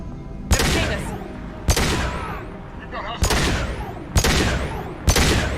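Sharp shots crack out one after another in the video game Mass Effect 2, five loud close blasts spaced about a second apart, each trailing a ringing echo, with a voice speaking faintly underneath.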